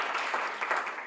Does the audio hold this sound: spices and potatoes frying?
no